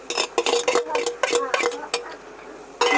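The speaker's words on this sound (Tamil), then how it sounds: "இந்த டைம்ல கொஞ்சம் நல்லா கிளறி விட்டுக்கலாம்" Leftover cooked rice being stirred in a cooking pot, a spoon scraping and clattering against the metal in quick, uneven strokes, close and fairly loud with no talk.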